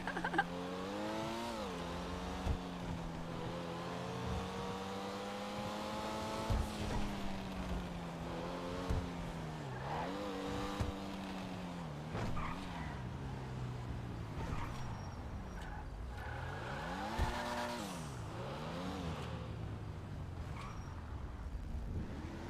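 A car engine in a driving video game drones through the whole stretch, its pitch climbing and falling with repeated revs and gear shifts, loud and continuous with no talk.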